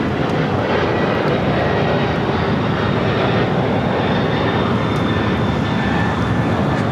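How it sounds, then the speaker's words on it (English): A DHL cargo plane operated by ABX taking off from LAX for Phoenix gives a loud, continuous jet engine roar with a dense, even rush that stays steady throughout, with no voices. "This is DHL operated by ABEX 105 taking off to Phoenix."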